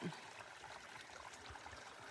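A small stream trickling beside a hiking trail among lush plants and volcanic rocks, heard as a soft, steady wash of running water with wind noise throughout.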